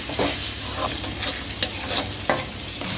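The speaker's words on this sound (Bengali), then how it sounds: "এখন মশলাটা আবার ভালো করে কষাই নিই।" Ground ginger-garlic paste, turmeric, chili, coriander and cumin are sautéed in a pan for a chicken curry with palm fruit, a constant close sizzle broken by a few brisk stirring scrapes, with no voices.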